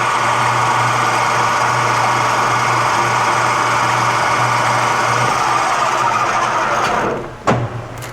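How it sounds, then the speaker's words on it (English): A metal lathe hums steadily while facing off an aluminum AN fitting, a constant mechanical whir with a low tone that drops away near the end, followed by a brief clunk, no voices. "I'm going to come in and just face this off a hair"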